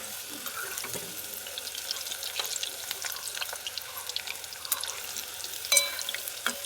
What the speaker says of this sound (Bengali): এইভাবে নেড়ে চেড়ে একটু ভেজে নেব লো ফ্লেমে।